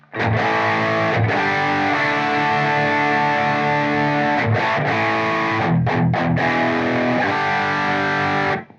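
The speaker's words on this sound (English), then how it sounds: "Let's have a look at a more sort of overdriven tone." Sustained overdriven tone from a Blackstar ID-X electric guitar amp on its Overdrive 1 setting, thick and saturated, with chords ringing continuously and a few brief breaks between strums.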